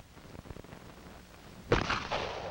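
Revolver gunfire in a 1960s defensive firearms training film, a single sharp shot that cracks out suddenly after a quiet stretch and rings on briefly with echo.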